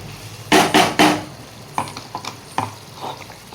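Green chilli paste for chicken curry hitting a hot pan, giving three loud bursts of sizzle and scraping early on, then lighter stirring clinks and softer frying crackle; no talking.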